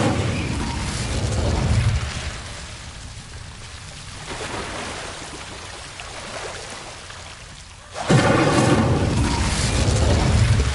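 Incendio fire spell cast in the game Hogwarts Legacy: a broad roaring whoosh of flame rises and fades early on, then a second loud burst of fire erupts near the end and keeps roaring, with no talking.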